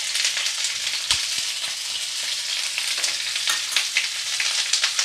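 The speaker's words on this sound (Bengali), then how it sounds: "তেলটা গরম হয়ে গেছে। এবার এর মধ্যে আমি পেঁয়াজ দেব" Two large onions hit hot oil in a pan, producing a bright, steady sizzle with scattered crackles and pops throughout.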